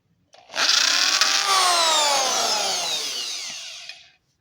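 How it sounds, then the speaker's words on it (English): Power drill boring through an aluminum fuel line, a loud whining grind that rises and slowly sweeps in pitch for more than three seconds, up close with no talk, before spinning down. "now I'm just going to go ahead and drill it through the aluminum fuel line also."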